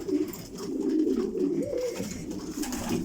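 Young pet pigeons, including checkered birds, coo in their new coop. The soft, low throaty coos roll on continuously and close by, with no talk over them.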